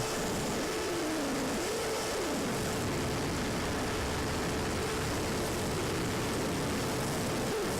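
An FPV Ranger 1600 model airplane flies circuits over a field, its propeller drone steady and fairly loud, rising and falling slightly as it passes at the start.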